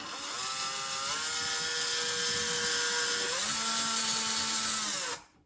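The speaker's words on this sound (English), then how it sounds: "So I'm going to see if I can drill it out." A power drill whines loudly and steadily for about five seconds as it drills out part of a homemade portable TV stand, its pitch dropping partway through as it bites in, then cutting off abruptly.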